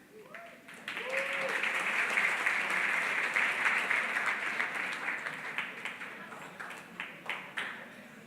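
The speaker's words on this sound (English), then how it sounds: "All right, another big round of applause for the board chair of HACR, Margaret Moran." A crowd at a closing reception and dinner breaks into applause that swells quickly, holds as a dense wash of clapping, then thins into scattered, fading claps.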